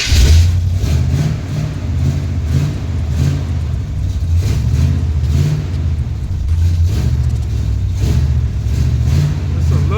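Car engine with fresh spark plugs and a faulty carburetor runs steadily and loudly up close, with a rough low rumble and repeated rhythmic surges as the throttle is blipped.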